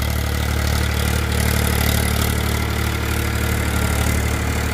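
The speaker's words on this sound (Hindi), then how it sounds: "ये देखिए, बहुत ही बेहतरीन ट्रैक्टर है पावर ट्रैक के।" A Powertrac 439 Supermaxx tractor, a roughly 39 PTO horsepower power-steering model, idles with a steady, continuous low diesel rumble, close and loud throughout with no talk over it.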